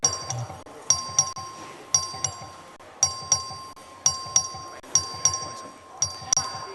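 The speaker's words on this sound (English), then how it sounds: "The clerk ring the bell." A voting bell rung by the clerk in the Texas House chamber, ringing in a steady series of repeated bright dings, clear and prominent above faint room noise.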